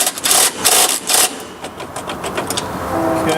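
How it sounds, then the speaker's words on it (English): A self-propelled lawnmower engine runs close by with a loud, pulsing rattle that surges in rough bursts before settling into a steadier drone. "the mower still runs really good"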